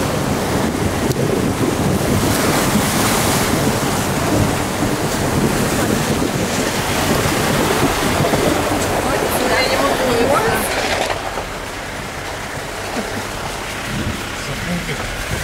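Water washing and splashing around a small boat heading out on a muddy rain-swollen river in Goa, India, steady and close with heavy wind rumble on the microphone throughout, easing slightly near the end.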